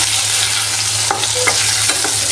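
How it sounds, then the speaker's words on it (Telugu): Dates frying in ghee in a pan on low heat, a loud dense sizzle throughout with a few spatula scrapes and clicks in the middle, close up and without speech. "1 టేబుల్ స్పూను గీ వేసుకొని మనము డేట్స్ని ఫ్రై చేసుకోవాలండి."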